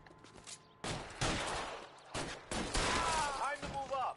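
Bursts of gunfire ring out in a video game shootout with military police in LA Noire, several loud volleys and rapid shots separated by brief pauses, with a voice talking between them.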